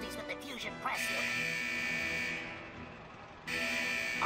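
An alarm at a fusion press unit during a World of Warcraft quest, a steady loud electronic buzzing tone that drops briefly and returns, with a voice speaking over it.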